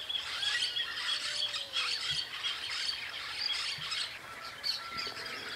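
Parrots calling across a rural farmland area near woodland, a dense chorus of squawks and chirps that carries steadily throughout, fairly distant, with no talk over it.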